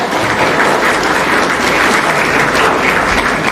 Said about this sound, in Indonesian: Boleh tepuk tangan, tidak apa-apa.